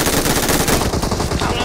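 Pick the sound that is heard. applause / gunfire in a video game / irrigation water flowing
gunfire in a video game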